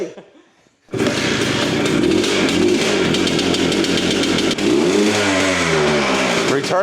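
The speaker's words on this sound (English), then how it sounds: "Returns to idle nicely so we don't have any big major air leaks." A car engine bursts into a loud, sustained rev after a second of near silence, holding high for several seconds before the pitch sweeps down and settles back to a steady idle.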